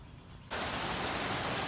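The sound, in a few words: rain falling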